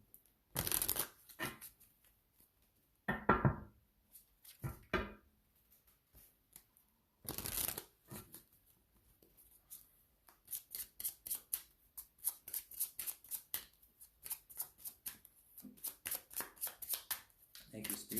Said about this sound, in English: let me see your oracle card